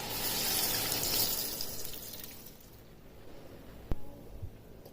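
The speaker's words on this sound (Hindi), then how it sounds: "पानी डाल देना है" Water, 500 ml, poured into a pot of fried chicken for pulao: a loud splashing pour that fades after a couple of seconds, then a faint clink of the pot.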